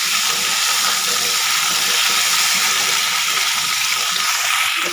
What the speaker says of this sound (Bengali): ওই তেলে কিন্তু আমি লম্বা লম্বা করে কেটে রাখা আলু এবং লম্বা লম্বা করে কেটে রাখা পেঁপেগুলোকেও ভেজে নেব